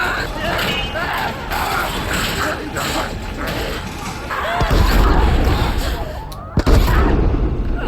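Gunfire from The Last of Us plays as scattered sharp shots and bangs within a busy, dense soundtrack, with a louder blast near the end, under reactors' voices.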